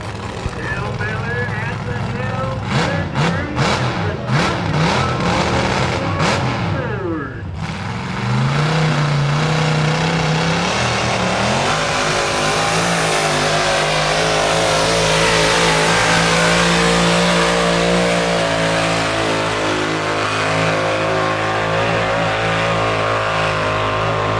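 A diesel pulling truck revs hard at a moonlight truck pull, with rapid throttle blips over the first seven seconds, then a sustained, loud engine roar that holds steady through a long pull run.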